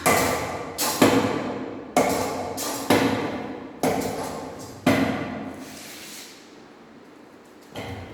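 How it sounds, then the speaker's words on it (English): An Izod impact tester swings its pendulum hammer into a test specimen, giving a series of sharp, loud metallic strikes and clunks, each ringing off and decaying, spaced about a second apart, then a quieter stretch and one more hit. "if we release the hammer, it will strike on the specimen, deform it and goes away"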